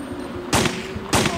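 Two loud gunfire bursts in Resident Evil 3 Nemesis on PS1, each a short rapid volley, the first at about half a second and the second about a second later, over a steady low game hum.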